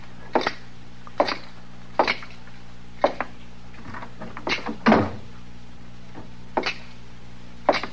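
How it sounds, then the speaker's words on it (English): A door is shut in an old radio western drama, heard as a series of sharp wooden knocks and clunks spaced about a second apart, close and fairly loud, with no voices over them. "you want me to close the door into the back? No, never mind, Chester. I'll do it."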